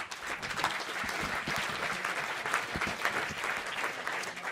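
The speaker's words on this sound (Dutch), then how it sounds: "Een heel hut applaus voor Hielke Speerstra" A crowd at a storytelling evening breaks into dense, continuous applause, steady and moderately loud, with no voices above it.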